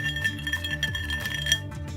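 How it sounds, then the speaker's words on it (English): Glasses with ice clink in a toast, with several bright, short clinks and rattles scattered over a low background hum. "Having the clinking ice glass."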